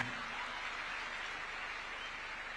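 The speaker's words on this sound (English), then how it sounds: "Another round of applause for His Excellency" Audience applause for Kenyan President William Ruto at a graduate interns event under the Affordable Housing Programme, heard as a steady, even wash of clapping at moderate distance that holds through the whole stretch without a break.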